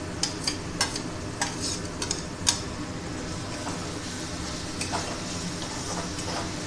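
A grated carrot and cauliflower kachori filling is stirred and fried in a pan, with a steady soft sizzle and repeated scraping clicks of the spoon at an uneven rhythm, close up.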